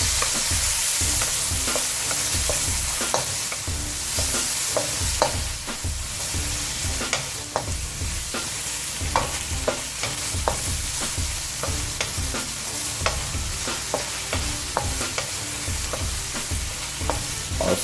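Shrimp and thinly chopped vegetables stir-fry for spicy shrimp ramen, with a steady sizzle beneath repeated clacks and scrapes of a utensil tossing the food in the pan.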